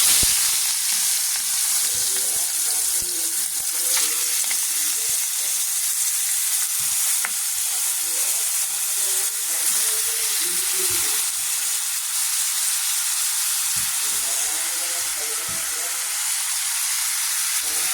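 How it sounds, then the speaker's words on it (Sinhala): Mixed ingredients for a pork stew sizzle in hot oil, a loud, steady frying hiss that runs unbroken, with faint stirring scrapes underneath and no voices. "කලවම් කරලා රත් වෙච්ච තෙල් එකට දාගන්නවා."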